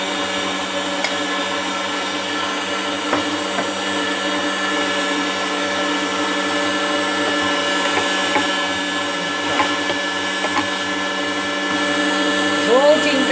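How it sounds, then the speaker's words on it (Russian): An electric meat grinder runs steadily, mincing a boiled egg for herring paste; the motor's hum holds at an even, close level throughout with faint clicks and small shifts in pitch. "Включаю мясорубку."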